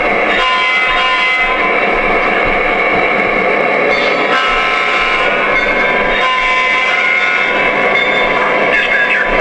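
A Lionel PRR GP35 model locomotive running with automated sounds: a loud, continuous diesel engine rumble and rail noise with horn-like tones and radio chatter mixed in.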